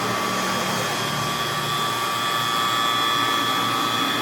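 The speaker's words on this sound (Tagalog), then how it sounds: "Proceed na tayo ng vacuum." Vacuum pump running steadily while evacuating the refrigerant system of a Panasonic two-door inverter refrigerator, a continuous loud whirring drone with a high whine, no talk.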